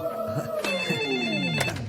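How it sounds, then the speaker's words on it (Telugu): A telephone rings with a bright electronic trill, close and loud, while a voice talks over it. "అది వేరే సౌండ్ కాదండి ఫోనే మోగుతుంది"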